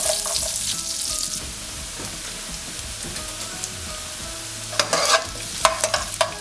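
Chopped shallots hiss in hot coconut oil in a pan, a steady close sizzle that turns busier near the end with several quick scraping stirs.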